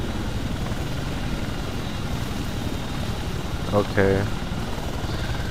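Helicopter rotor and engine drone from the Arma 2 combat simulator, a steady chopping roar filling the whole clip from inside the aircraft, with a brief radio-style voice breaking in near the end.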